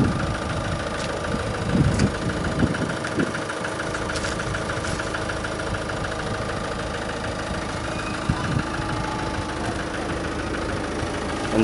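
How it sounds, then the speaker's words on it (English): A Ford Mondeo Estate 2.0 TDCi diesel engine idles steadily, giving a continuous even rumble with a light diesel clatter, close and alone, with no talking. "I have left the engine running just so you've got an idea of what it does sound like."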